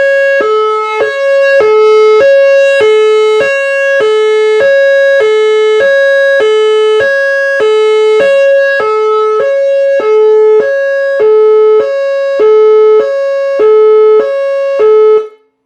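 A SiRCom electronic siren runs through a bench amplifier without its horn, sounding a loud, sharp electronic tone in even rapid pulses about once a second for around fifteen seconds before cutting off.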